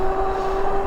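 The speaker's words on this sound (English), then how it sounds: "for this test, we're going to just use the throttle. See how powerful this motor is." Throttle-only climb up a hill on a 2024 Velotric Nomad 1 Plus fat-tire e-bike with a 750 W, 75 Nm motor, giving a brief, steady, even electric whine over a low rumble.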